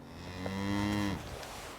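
A single cow on a Vermont farm gives one loud, close moo lasting about a second, which rises and then drops off sharply.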